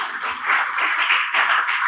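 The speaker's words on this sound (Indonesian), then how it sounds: "Berikan tepuk tangan bagi Tuhan." A church congregation clapping hands in a sustained, rhythmic wash of many claps, fairly loud and close, with no talking over it.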